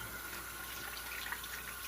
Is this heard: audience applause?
no